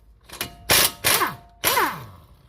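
Wrench and socket working 22mm strut bolts on a Toyota Corolla: three sharp metallic clanks, each ringing briefly, close and loud with no talking.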